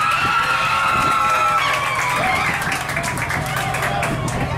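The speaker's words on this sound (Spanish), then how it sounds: "el aplauso para el participante número uno" A loud party crowd aboard a yacht claps and cheers for a contestant, dense continuous clapping mixed with shouts and whoops, close and lively, with voices talking through the noise.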